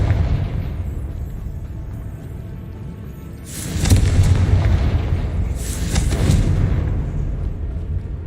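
Deep, rumbling blasts from the Confringo spell in the Hogwarts Legacy video game, two broad explosions a couple of seconds apart, layered over a constant low game ambience, with no talking.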